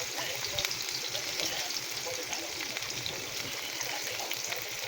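Onions and garlic frying in a pan, giving a steady broadband sizzle that continues evenly throughout with no talk over it.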